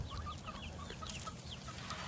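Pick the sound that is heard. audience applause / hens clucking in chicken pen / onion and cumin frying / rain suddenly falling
hens clucking in chicken pen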